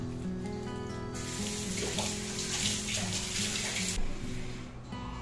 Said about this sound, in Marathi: धुवून घ्यायचा आहे नळाखालती चांगला.